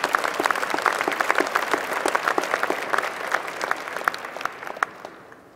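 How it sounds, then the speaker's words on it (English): Sustained applause from a large audience at an engineering school winter commencement ceremony, dense and continuous, then tapering off near the end. "let's give them another round of applause for the work that they do"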